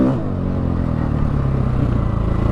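A 2016 KTM 500 EXC dirt bike engine running close by, a loud, throbbing, pulsing drone with rapid rhythmic firing and a slight rise in revs.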